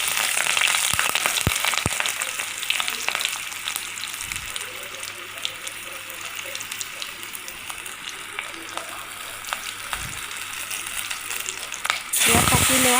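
Green chillies fry in a pan of oil with cloves, cardamom and cinnamon, a loud continuous sizzle near the mic with crisp spatters and occasional utensil knocks, rising sharply in the final second.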